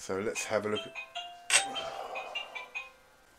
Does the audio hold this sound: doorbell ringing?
yes